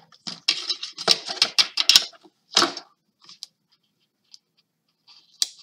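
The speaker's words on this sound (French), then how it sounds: "je vais mettre une bande de double face ici pour bien que ça maintienne" Strip of double-sided tape being pulled and applied to paper while making a scrapbook photo album: a burst of close, crisp crackling and peeling snaps, then a few faint isolated taps in near silence.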